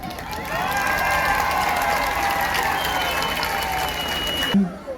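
Audience at a concert in İskenderun applauds and cheers in a steady, dense wash of crowd noise with sustained tonal sounds running through it, cutting off abruptly near the end.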